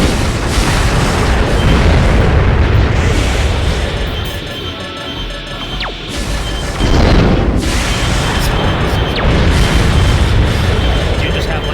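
Heavy, rumbling booms from a missile-armed mech in Armored Core 2 Another Age, loud and sustained with overlapping blasts, easing briefly in the middle before surging again, while people talk over them.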